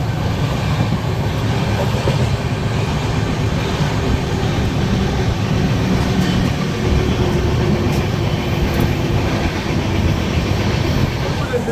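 A Rajdhani Express train runs through Dholpur junction, heard from on board as a steady, loud rumble of wheels and carriage noise that stays constant throughout without letting up.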